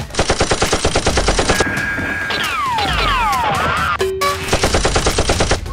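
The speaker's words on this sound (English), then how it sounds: "Jack suddenly jumps out and shoots at the soldier, causing him to die. Xicman, seeing Jack, fires as well" Toy Nerf guns fire in a staged fight, with rapid repeated clattering bursts at the start and end and sweeping electronic whistling tones in between, loud and close.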